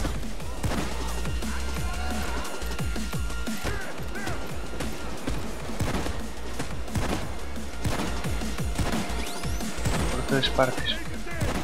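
Sustained gunfire from the heist game Payday 2 crackles in repeated bursts and single shots, loud and close, while people talk over it.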